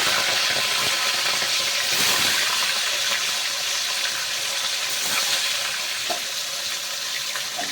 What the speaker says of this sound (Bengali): তেল গরম হয়ে গেলে মাছগুলোকে উল্টে পাল্টে কড়া করে ভেজে নেব